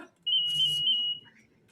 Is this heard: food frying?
no